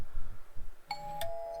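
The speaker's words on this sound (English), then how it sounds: "Doorbell rings." Electronic doorbell chime from the video game How to Date a Magical Girl, two clear ringing tones in quick succession after a low rumbling background.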